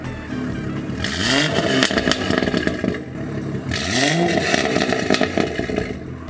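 A BMW M140i fitted with a Scorpion catback exhaust starts up and revs loudly twice, each rev rising and falling in pitch. Its deep exhaust note and some clatter carry close by.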